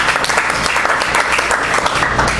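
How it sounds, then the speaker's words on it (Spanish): A church congregation claps for Christ during a service, steady dense applause filling the room at an even level throughout, close and loud with no voices above it. "denle un aplauso a Cristo"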